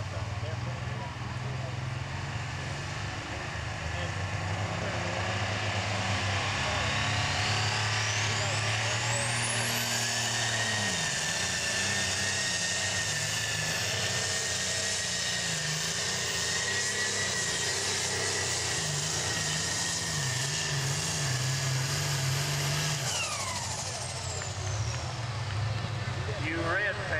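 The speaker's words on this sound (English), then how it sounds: "That tractor should have a lot more RPMs than that." A super stock pulling tractor at a tractor pull in Mt Gilead, Ohio roars continuously, its engine pitch climbing, holding high for a long stretch, then dropping off, with a crowd and announcer talking underneath.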